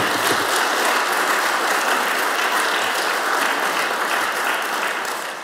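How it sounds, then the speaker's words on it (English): Audience at a design debate event applauds the panel, a steady, dense roar of clapping from a large crowd that holds evenly throughout and tapers slightly at the end. "Why don't you give the panel a round of applause"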